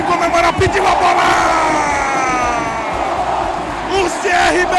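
Football fans roar and chant as CRB celebrates the 2023 Alagoas state championship, a loud dense stadium crowd with rising whoops under an excited commentator.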